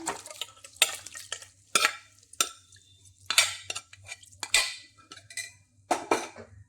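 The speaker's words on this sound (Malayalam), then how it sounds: "ഇനി നമുക്കിതിലേക്ക് വേവിച്ച് വച്ചിരിക്കുന്ന ചിക്കൻ ഇട്ട് കൊടുക്കാം" Cooked chicken is tipped into browned masala in a pan for Kerala marunnu chicken and mixed, sharp scraping and clattering spoon strokes over a low frying hum, repeating in uneven bursts.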